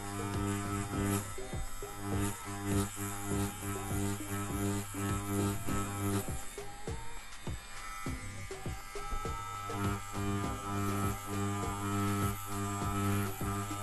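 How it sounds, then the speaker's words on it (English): Direct drive pen style tattoo machine with four-millimetre stroke, run at about 9 volts while shading a tattoo, giving a steady close electric buzz with strong harmonic hum throughout, no talking. "This is a direct drive machine, it's a pen style machine, and it has 4 strokes."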